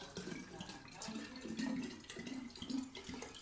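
Water pours into a drinking container that has been in use for a couple of years, a steady close trickle with faint rises in pitch as it fills, carrying on alone for a few seconds.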